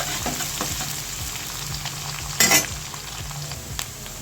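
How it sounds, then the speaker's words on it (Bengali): Onions frying in oil with black cumin, a steady close sizzle broken by repeated scraping strokes of stirring and one brief louder crackle, with no voices. "পেঁয়াজগুলো আমি লাল লাল করে ভেজে নেব"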